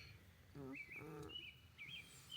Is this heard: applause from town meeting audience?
no